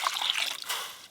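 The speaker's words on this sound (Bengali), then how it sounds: "জল দিয়ে একবারে ধুয়ে নাও, আমি জল দিচ্ছি।" Water is poured over cut taro stems to wash them, making a short, close trickling splash that fades out quickly.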